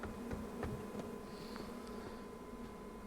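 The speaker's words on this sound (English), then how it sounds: "I've placed some bee boxes to stop anybody from being able to sort of like walk onto our base" Bees buzz around bee boxes set at the edge of a base in H1Z1, a steady close drone with faint ticks and knocks, no talking.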